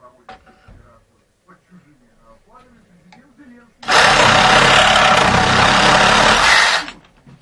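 A WORTEX CSR 1118 E cordless reciprocating saw cutting wood close to nails, one loud buzzing burst of about three seconds after a stretch of quiet handling and a few soft voices.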